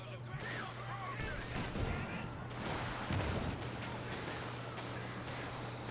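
G43 rifles crack in the Company of Heroes 2 strategy game, a dense stream of overlapping gunshots and small-arms fire over constant battlefield noise, with a steady low hum and a couple of louder impacts.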